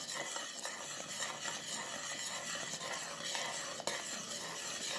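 Molten caramel is stirred continuously in a pan, a dense, steady bubbling hiss with scraping and faint metallic clinks from the utensil, with one sharp tap near the end.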